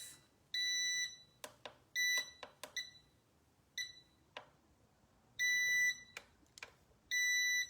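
A tumbler heat press emits repeated high electronic beeps, some long and some short clicks, in an irregular pattern against a quiet background, its temperature not rising.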